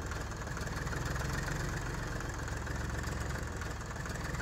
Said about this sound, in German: Dann haben wir hier den Zetor 4911. Machen wir auch den Motor mal an.